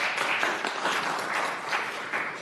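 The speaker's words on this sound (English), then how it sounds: "I wouldn't be applauding just yet." Applause in a state legislative chamber, a dense, even wash of many hands clapping at moderate distance, sustained for a couple of seconds.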